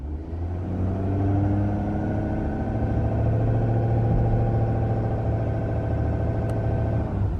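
A 2017-19 Ford F-250 truck's engine revs and holds on a foot-brake launch, a loud, close, sustained rumble that climbs in pitch and then stays steady.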